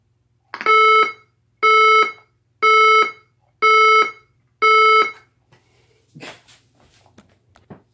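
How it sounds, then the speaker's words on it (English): Five loud, evenly spaced electronic beeps from a Federal Signal SelecTone 50D siren, each about half a second long with short gaps, then quieter rustling and faint talking afterward. "Alright, guys, this is beep."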